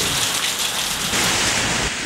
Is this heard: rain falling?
yes